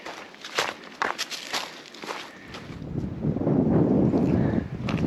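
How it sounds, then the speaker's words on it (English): Wind gusts rushing across the microphone near a mountain summit, building into a steady roar, with footsteps crunching along outdoors. "A little windy, so we'll keep moving."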